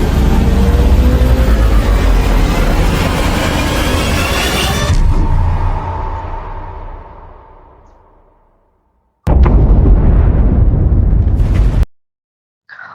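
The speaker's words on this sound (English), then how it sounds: "What causes the explosion?" A loud bomb explosion with a roaring blast that rumbles and slowly fades over several seconds, followed after a short silence by another burst of loud rumbling noise that cuts off abruptly.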